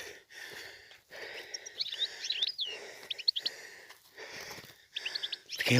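A goldfinch sings bright, twittering phrases in repeated bursts with short pauses, fairly close and alone, in the wild in Morocco.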